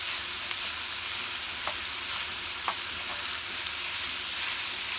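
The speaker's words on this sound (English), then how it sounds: "But you just let this kind of saute." Garlic, diced onion and vegetables sauté in a pan with a steady, even sizzle that stays close and unbroken, with only a few soft stirring clicks and no talking.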